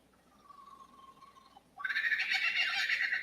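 A lyrebird mimics a kookaburra: a faint steady tone at first, then an abrupt, loud burst of harsh, raucous laughing calls that carries on to the end.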